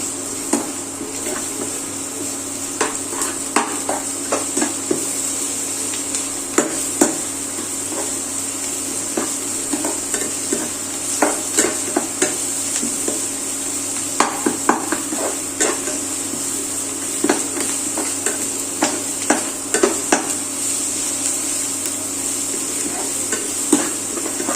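Onion frying with ginger garlic paste in a pan, a constant sizzle under repeated clinks and scrapes of a spoon stirring against the metal.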